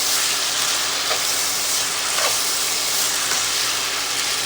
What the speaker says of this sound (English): While the noodles are in, I'm going to go ahead, add the sauce. Keep them moving so they don't stick to the bottom of the pan.